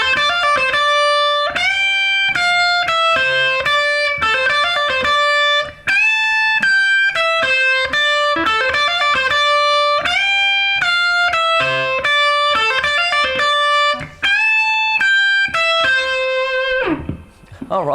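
A distorted electric guitar plays a lead part, a melodic line of repeated bending notes, loud and upfront, ending in a brief slide.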